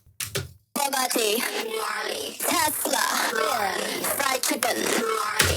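A voice run through a harsh metallic ring-modulation effect, sounding robotic and clangorous, speaking continuously after a brief opening burst.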